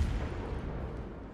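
A single heavy naval gun salvo booms in the World of Warships video game, a deep low rumbling blast that starts loud and decays slowly over about a second.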